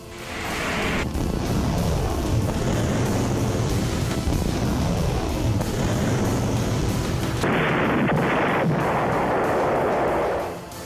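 Rockets fired in a Hezbollah attack on Israel blast and explode in a dense, continuous roar of booms and rumbling, loud and close, with wind buffeting the microphone.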